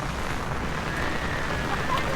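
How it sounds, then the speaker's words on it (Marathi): Heavy rain falls over flooded farm fields in a steady, even hiss that continues unbroken from start to finish at moderate loudness, with no voices. "आणि भयंकर असा पाऊस पूर आला बघा, अख्ख्या शेता भरलं।"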